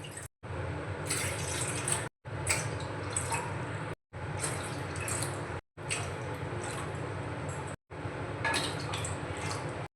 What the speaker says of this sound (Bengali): এই কাপ মেপে আমি দিয়ে দেব 6 কাপ জল।